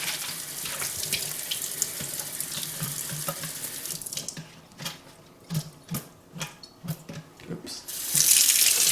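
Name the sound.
running water from a filtered cold-water faucet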